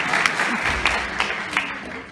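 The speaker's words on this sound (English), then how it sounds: "thought that one would get a bigger applause" Brief, moderate applause from an audience at a workplace stand-up comedy talent show, a short patter of clapping that fades within about two seconds.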